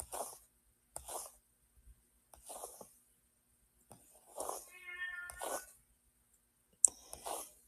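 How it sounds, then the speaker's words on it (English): A cat meows repeatedly at an office door, with about seven separate cries in an uneven rhythm, some short and some drawn out, loud and close with quiet gaps between them. "She is meowing away at my office door."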